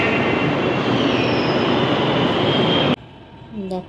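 Metro train rushing past a station, heard from above as a loud, steady broadband rumble-whoosh that cuts off abruptly near the end, followed by quieter ambient noise.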